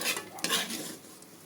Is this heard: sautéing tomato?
yes